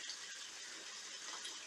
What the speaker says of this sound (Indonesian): bersih kan, airnya dingin loh